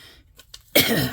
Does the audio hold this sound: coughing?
yes